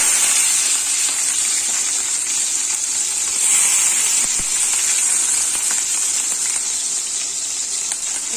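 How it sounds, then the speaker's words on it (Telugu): Green chillies frying in hot oil with cumin seeds, a steady close sizzle and hiss with faint crackles that continues evenly throughout. "ఇప్పుడు అవి అలాగా మంచిగా ఆయిల్లో ఫ్రై అవుతున్నాయి కదా"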